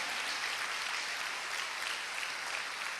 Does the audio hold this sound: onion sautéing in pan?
no